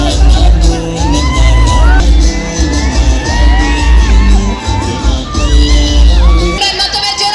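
Crowd cheering for actress Rachita Ram at a temple event, loud whoops, yells and shouts rising over a booming, echoing background, with a burst of clapping toward the end.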